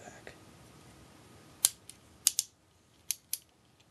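A leader-class Starscream transforming toy figure being handled, its joints giving a handful of crisp, close ratcheting clicks spaced irregularly over a low background hiss.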